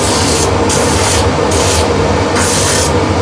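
Sandpaper of 180 grit rubbed over a woodturned piece spinning on the lathe gives a loud, steady hiss of abrasive friction. Its brighter strokes pulse about once every half second, and no one speaks.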